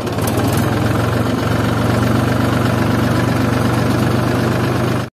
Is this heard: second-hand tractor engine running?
yes